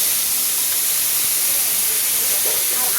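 Ginger-cumin paste dropped into hot oil for a curry sizzles, a loud, dense, close hiss that holds steady throughout.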